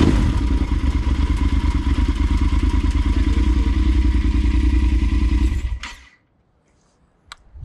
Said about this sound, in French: ce que vous pouvez faire, c'est allumer le moteur